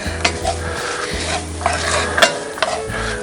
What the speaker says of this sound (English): now it's got a little sizzle going on